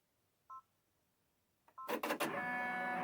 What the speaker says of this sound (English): I already have the design in my machine, and it is going to first do the placement stitch, and then it'll do tack down stitches